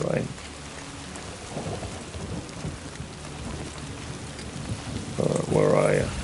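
Heavy rain pours steadily in the Death Stranding 2 video game, with low rumbles of thunder rolling beneath it and a louder swell near the end, while a voice speaks briefly at moments.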